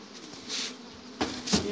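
Bees buzzing at an overwintered beehive that came through winter on five frames, a soft steady insect hum with a few louder passes close to the hive.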